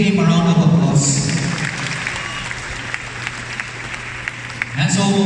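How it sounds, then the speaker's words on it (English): Audience applause for a bishop at a 20th anniversary church gathering, a broad steady wash of clapping from a crowd lasting several seconds, with speech at the start and end. "let us give him a round of applause"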